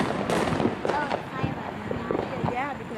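New Year's Eve fireworks pop and crackle in a street as a series of sharp bursts scattered through a few seconds, mid-distance, while people talk over them nearby.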